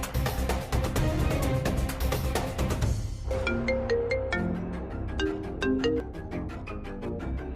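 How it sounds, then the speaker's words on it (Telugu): A phone ringtone plays during an outgoing call, a bright repeating electronic melody of rapid plucked-like notes that continues steadily and loudly throughout, with no talk. "ముందు రాధా గారికి ఫోన్ చేస్తే ఏదో ఒక దారి దొరుకుతుంది."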